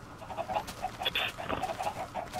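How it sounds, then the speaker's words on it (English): Chickens clucking in the video game Minecraft, soft repeated clucks in short bursts, fairly quiet and close, with a few brief flutter-like noises mixed in. "these chickens are just fluttering back down"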